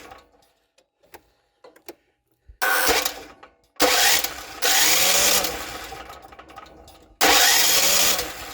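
An ALL POWER APGG12000GL dual fuel generator engine cranks over in loud, repeated bursts separated by short pauses, after a quiet stretch with a few faint clicks.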